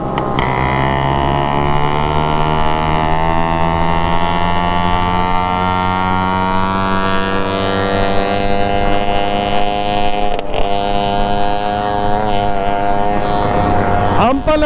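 A vintage vehicle drives nonstop over bumps, its engine a steady, close droning whine that slowly climbs in pitch, with a sharp knock near the end.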